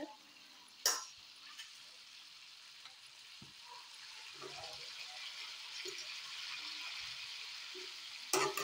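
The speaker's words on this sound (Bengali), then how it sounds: "এখন মাছগুলি দিয়ে দেব" Fish pieces go into a simmering Bengali fish and vegetable curry, with a couple of sharp knocks and a soft, steady bubbling hiss under light handling noise.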